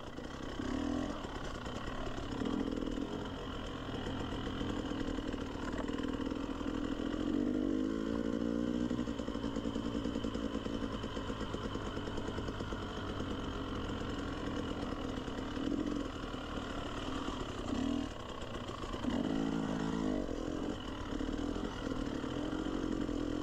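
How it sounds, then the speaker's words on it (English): Electric bicycle-style motorbike ridden like a trials bike, giving a steady, droning motor whine that rises and wavers in pitch throughout, heard from a moderate distance with no talk. "So there's Jeff on his electric bicycle motorcycle thingy."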